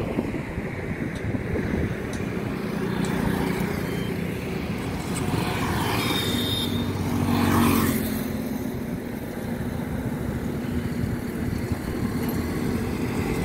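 Traffic rolls along National Highway 16 between Anakapalli and Yelamanchili as a steady, continuous roar, with one vehicle swelling louder as it passes midway through, mixed with some wind noise.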